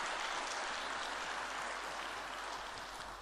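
A church congregation applauds together in blessing, a soft, even wash of many hands clapping heard from a distance, steady and faint with no voices over it.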